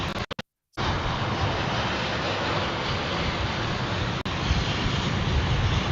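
Boeing Dreamliner airliner heard as a steady broadband jet engine roar, loud and continuous after a few brief choppy dropouts at the start, with no talking.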